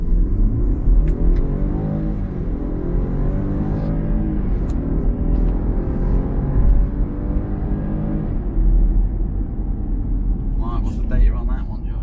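A Land Rover Defender 110 P300 SUV accelerates hard at full throttle in a 0-60 mph test, its rising engine drone steady and loud for the whole stretch, with people talking over it.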